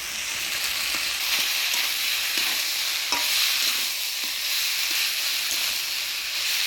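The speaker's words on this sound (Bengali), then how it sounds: "এবার দিয়ে দিব ভাজি রাখা আলু এবার মাছের মুড়োগুলো দিয়ে দিব" Fish heads and pre-fried potatoes frying and being stirred in a pan for a Bengali village dish, a steady loud sizzle and hiss with scraping stir strokes throughout.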